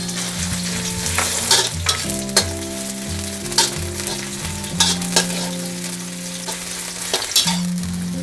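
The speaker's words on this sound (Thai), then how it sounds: "น้ำมันร้อนใส่เห็ดหอมลงไปค่ะ" Shiitake mushrooms sizzle and crackle in hot oil in a pan with steady frying hiss, broken by occasional scrapes of stirring; a low hum runs underneath.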